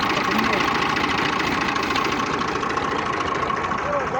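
A tractor engine idles nearby with a loud, steady, unbroken rumble and slight knocking throb; voices may be faint beneath it.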